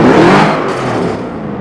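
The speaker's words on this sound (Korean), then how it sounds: "시동부터 일단 켜고서 보겠습니다." A BMW SUV engine starts and settles into a loud, steady idle, heard close to the car with no talking.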